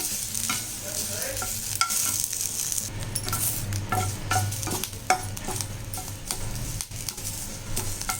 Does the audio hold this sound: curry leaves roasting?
yes